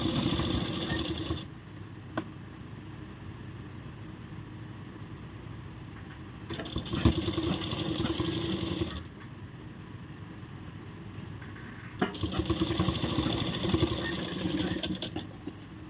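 A sewing machine stitching seams on an off-shoulder blouse runs in three steady whirring bursts, separated by quieter pauses, close up and without talk.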